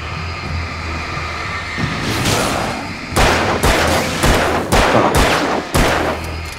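Gunfire in the horror game Alan Wake: several sharp, loud shots in irregular succession over a rumbling, moody ambient bed, with no talking.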